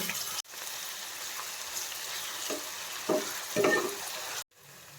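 Cumin, mustard seeds, curry leaves and garlic sizzling in hot oil for a masala rice, a steady close crackling hiss with a few sharper pops near the end before it cuts off.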